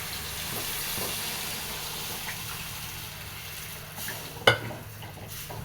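Sambar of lentils, vegetables and tamarind is stirred in a pot, a soft bubbling simmer with intermittent ladle scrapes and one sharp clink of metal against the pot near the end.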